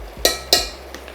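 A spoon stirs sour cream into a tuna pasta sauce in a pan. Two sharp metallic clinks sound close together near the start, followed by a couple of faint taps.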